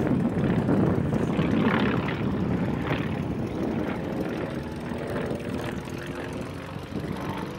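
A General Motors-built FM-2 Wildcat propeller fighter flies aerobatics at a WWII weekend air show, its engine droning loudly and steadily and then easing slightly as it passes overhead.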